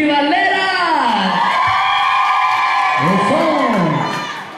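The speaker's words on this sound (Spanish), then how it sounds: "Ahora sí, el grito para las tribaleras." A loud crowd yells and whoops together in a sustained roar, voices swooping up and down before fading slightly at the end.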